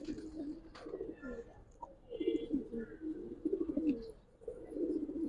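A small male Giribaz pigeon coos in repeated low, throaty bursts, fairly close, with short pauses between calls and a few faint chirps and soft background sounds.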